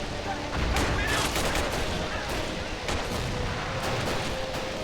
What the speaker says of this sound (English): Yep, we've got some artillery still in action.